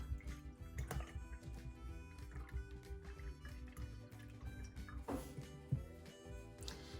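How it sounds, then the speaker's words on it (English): A paintbrush swished and rinsed in a container of water while painting, with soft trickling, dripping and splashing sounds running steadily at close range. "Take my paintbrush, wash it off."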